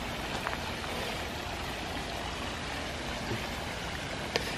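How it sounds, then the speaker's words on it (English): A small waterfall near a bridge, heard as a steady, even wash of flowing water with a constant hiss and no voices over it. "There's one waterfall right there."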